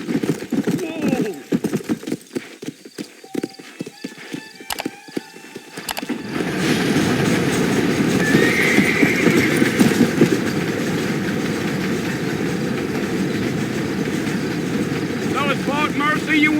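Horse hooves clip-clopping at a steady gallop with rolling wagon noise in Red Dead Redemption, a continuous close rumble after a brief stretch of scattered knocks, with a voice urging the horse on early.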